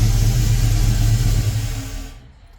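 An LS V8 in a Cutlass A-body with an aggressive cam rumbles loudly through dual exhaust, a deep steady idle burble close by that drops off abruptly near the end.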